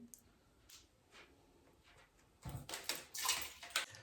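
Liquid poured off homemade cheese, splashing and trickling in bursts over the last second and a half after quiet handling noises, fairly close and without talk.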